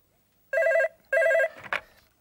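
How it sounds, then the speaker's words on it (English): An old-style telephone bell rings in two loud, rattling bursts with a short pause between them, close and clear in a quiet room, followed by a brief clatter as the handset is picked up. "I'll just answer the phone."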